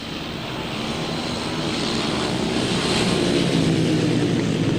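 Grasstrack racing motorcycle engines rev together at the start of a race in a dense, continuous roar that builds steadily louder.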